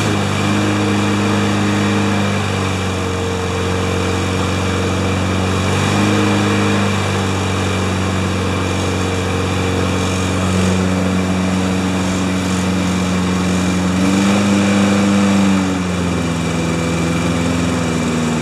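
A Honda HR216 lawn mower engine, carburetor freshly cleaned, runs steadily up close for the whole stretch, its droning hum holding even with small rises and dips in pitch.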